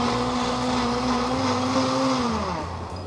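A blender runs at full power pureeing a thick corn sauce, a steady close whirring drone with a slight dip in pitch as the mixture thickens, heard alone without talk.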